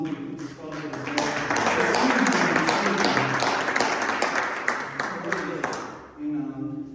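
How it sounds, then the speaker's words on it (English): Audience applause at a ministry talk, a sustained wash of clapping lasting several seconds and fading near the end, with voices audible before and after it. "I want to give everybody else a round of applause who spoke as well"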